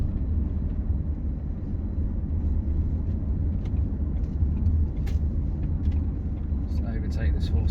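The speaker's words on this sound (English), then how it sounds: "Plenty of power, really good acceleration." Ford Kuga 2.0 TDCi diesel SUV with Powershift automatic and all-wheel drive accelerating, a low, steady engine and road rumble heard from inside the cabin, moderately quiet, with a few faint clicks over it.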